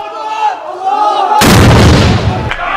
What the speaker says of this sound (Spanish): Pero las bombas de Bashar al-Assad golpean duro a quienes el gobierno llama de terroristas